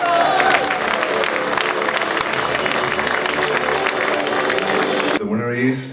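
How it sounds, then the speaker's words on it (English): A crowd applauds an award winner at a convention, loud and continuous clapping with voices mixed in, cut short near the end. "Please give a round of applause to Dasha de Braai."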